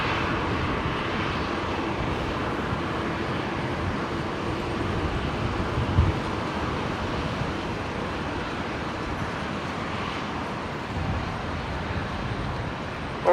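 At Brisbane International Airport, an airliner departs on its second attempt after diverting, a steady distant jet rumble and hiss held at moderate loudness throughout, with a couple of brief knocks nearby.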